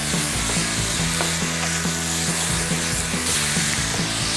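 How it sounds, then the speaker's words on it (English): Pork sizzling and browning in a hot pan, a loud steady crackle with a constant hiss, broken by repeated scraping as the meat is kept moving. "we're just going to keep that moving now. Want to brown all that pork off."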